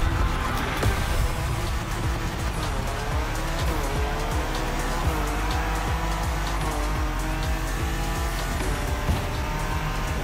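A BMW races in The Crew Motorfest, its engine roaring loud and continuous with shifting revs, tire squeal and skids, and almost no talk over it.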